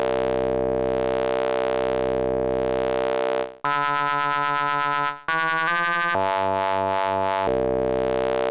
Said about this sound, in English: Gives a very cool pulsing effect.